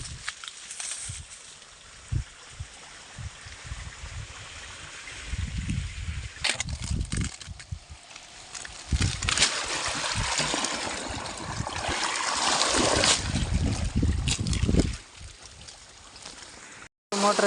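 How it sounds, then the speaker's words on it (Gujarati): Irrigation water pumped by a motor gurgles and splashes unevenly along a field channel, in irregular bursts of moderate loudness. "આ કણે પાણી જાય છે અને હવે બદામ બાજુ પણ પાણી જઈ રહ્યું છે"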